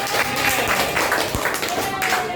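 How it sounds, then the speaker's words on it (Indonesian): A classroom of students claps for a classmate, steady dense applause of many hands at moderate loudness, with voices talking over it. "Beri tepuk tangan untuk Haitsa."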